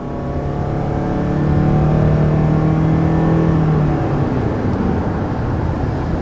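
A 2019 Toyota RAV4 Hybrid engine accelerates steadily from inside the car, a loud sustained rising drone that holds for several seconds with no talk over it.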